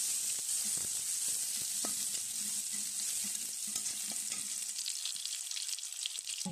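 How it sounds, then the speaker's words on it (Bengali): Onion and garlic fry in a pan for a Bangla bathua greens recipe, giving a steady close sizzle with occasional stirring scrapes and light clinks throughout, with no talking. "পেঁয়াজ আর রসুন দেখে ভাজা হয়ে গেছে"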